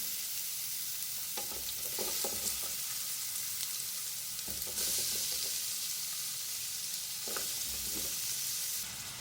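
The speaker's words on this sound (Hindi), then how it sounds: "ऑयल गर्म हो जाए तो फिर मैं प्याज शामिल करूँगी इसमें।" Thinly sliced onions fry in hot oil for an Afghani chicken pulao, a steady loud sizzling hiss broken by a few spoon stirs and scrapes, close by with no talking.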